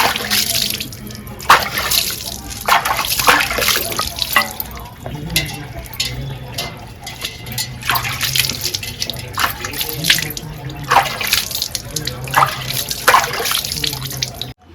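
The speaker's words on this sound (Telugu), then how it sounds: "ఇది శుభ్రంగా కడుక్కున్నాము." Country chicken is washed by hand under a running kitchen tap, with a steady close stream of water and sloshing, splashing handling noises throughout, and faint voices now and then.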